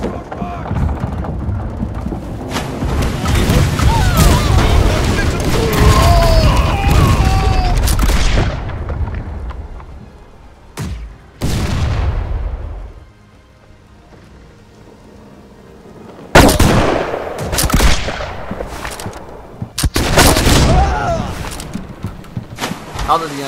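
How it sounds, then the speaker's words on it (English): Ship cannons firing in the pirate naval game Blackwake, with heavy booming blasts over a roaring, rain-like wash of noise, then a quiet lull before more loud bursts; voices talk intermittently throughout. "Right side right side cannons."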